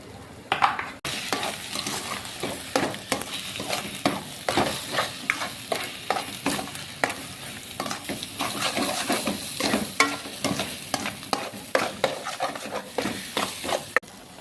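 Egg bhurji stir-fried in a pan with chilli and salt, a continuous sizzle broken by repeated scraping and stirring strokes of a spatula against the pan, close and fairly loud, with no talking.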